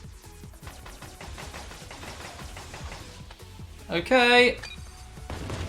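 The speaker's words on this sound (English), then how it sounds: "imagine that when you go through that, it's going to trigger explosions" Explosions triggered along a Mega Man 11 stage, with rapid crackling bursts and a bright, loud blast near the end over busy game music, while a person speaks briefly.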